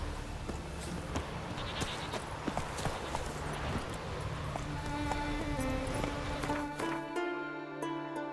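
Roach, Geralt's horse in the video game The Witcher 3: Wild Hunt, trots along in a steady clip-clop rhythm of hoofbeats, moderately quiet over a soft ambient game background.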